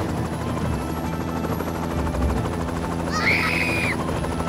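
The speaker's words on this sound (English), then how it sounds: "Soon a helicopter had come to collect Terry and the man." A steady low rotor drone fills the clip, with a brief high warbling tone rising over it near the end.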